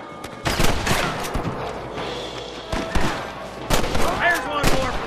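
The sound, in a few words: gunfire in a shootout with rustlers, from video game Red Dead Redemption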